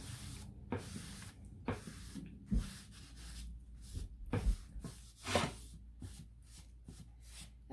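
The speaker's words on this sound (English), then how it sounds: "So now we're just going to wipe this off." Rag wiping freshly applied paint or finish off a surface, with repeated soft swishing strokes and rubbing scrapes in an irregular rhythm, close and fairly quiet.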